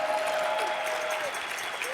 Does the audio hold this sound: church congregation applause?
yes